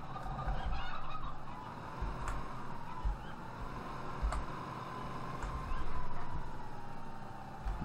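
Chickens cluck and squawk in a Farming Simulator farmyard. The bird calls are faint and overlapping over a steady low ambient hum, with occasional sharp ticks.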